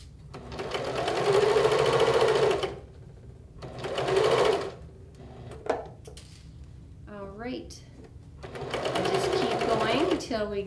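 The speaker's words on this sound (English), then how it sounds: "Okay, and then we'll just keep sewing." A sewing machine stitches quilt seams in bursts, each run a fast steady whir lasting a couple of seconds, with pauses between, close and moderately loud, and a voice speaking in one gap.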